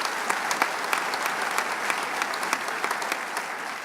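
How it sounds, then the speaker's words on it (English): An audience at a state economic development funding announcement gives a steady round of applause, dense clapping from many hands with some sharper individual claps standing out, continuous throughout. "Let's give each other a round of applause for all your great work."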